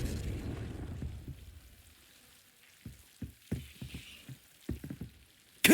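Confringo blast curse going off in Hogwarts Legacy: a rushing, crackling burst fades into a string of short, sharp pops and thumps, ending in one more abrupt hit.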